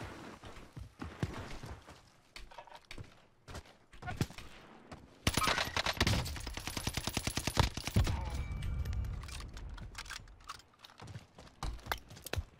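Warzone gunfire with an SMG, a dense burst of rapid automatic shots in the middle, set among scattered single cracks and clicks before and after.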